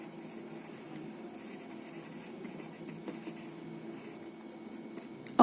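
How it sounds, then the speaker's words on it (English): Quiet, steady scratching of a pen writing out the name of a chemical compound, carbon tetrachloride, continuing without a break for several seconds. "Let's write its name"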